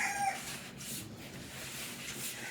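Backyard chickens coming up for a treat, clucking and calling faintly at a distance amid outdoor noise in a short burst.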